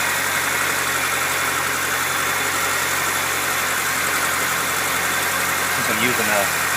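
A Ford Ranger engine idles steadily and close, with a constant mid-low hum during a check for vacuum leaks while brake cleaner is sprayed around it, and a person talks over the running engine.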